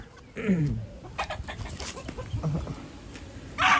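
Gamefowl roosters and chickens cluck and call close by, with several overlapping bursts of clucking and a short raised call near the end, fairly loud over a busy farmyard background.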